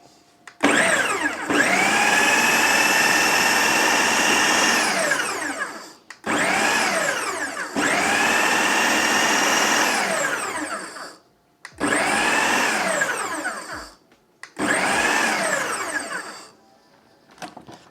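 A blender pulsing roasted salsa, with four long, loud whirring bursts of motor noise rising in pitch as each starts, divided by brief silences where the motor stops.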